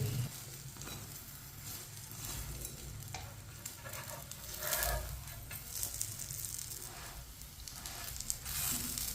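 A paratha fries on a hot pan while being turned from side to side, giving a steady close sizzle with soft scraping and stirring movements throughout, and no one speaks.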